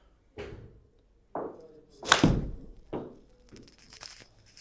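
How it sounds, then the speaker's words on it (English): A golf club strikes the ball thin during a swing, giving a sharp, close contact thud amid a few other dull knocks and thumps, with no talking. "It was a little bit thin, and so my low point occurred before the golf ball"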